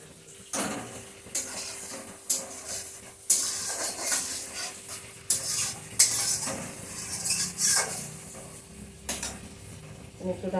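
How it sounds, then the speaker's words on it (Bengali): Metal lid set onto a cooking pan of prawn malai curry, several clinks and scrapes of metal on metal over a steady background hiss of gentle simmering, fairly quiet and close. "ঢাকনাটা দিয়ে দিচ্ছি, তারপর দেখাচ্ছি বন্ধুরা।"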